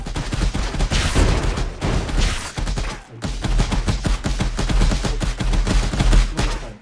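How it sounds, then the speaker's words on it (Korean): Dense gunfire erupts from all sides in a video game level, with rapid overlapping shots crackling almost nonstop, a brief lull near the middle, then the volley resumes just as heavily. "사방에서 쏴 좋습니다"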